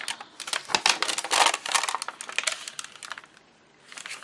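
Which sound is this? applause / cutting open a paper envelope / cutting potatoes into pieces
cutting open a paper envelope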